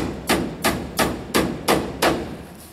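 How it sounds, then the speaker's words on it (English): Six evenly spaced hammer blows drive nails to tack greenhouse material in place, each a sharp, close strike with a short ring, steady in rhythm and heard alone. "I'm just going to put a few nails in this, tacking it in place"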